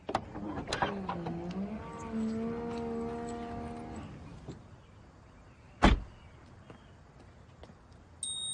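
A car, with a whining motor tone rising then holding steady for a few seconds, followed by a sharp single thud like a door shutting, then quiet.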